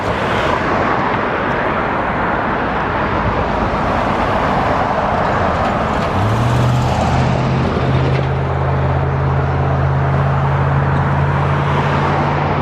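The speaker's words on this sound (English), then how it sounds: "Just going to show you a few seconds of the traffic on Campbell." Steady traffic roars along busy Campbell Avenue in Tucson beside a Trader Joe's plaza, a dense continuous wash of passing vehicles with a low engine drone rising partway through.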